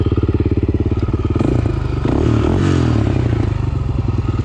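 A Honda 300EX ATV with a big bore kit, stage 2 cams and an FMF exhaust idles right after starting, a loud close rhythmic thumping that swells and roughens midway before settling back.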